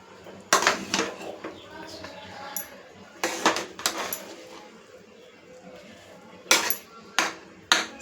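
A spoon stirs cooked rice in a pot, scraping up from the bottom. Sharp metallic clinks and scrapes come in short bursts separated by quieter pauses.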